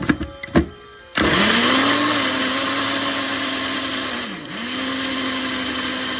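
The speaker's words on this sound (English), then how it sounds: "now it's time to blend it all up" A few clicks and knocks, then a Ninja blender whirs loudly and steadily blending juice ingredients, its motor pitch dipping briefly before settling again as it blends.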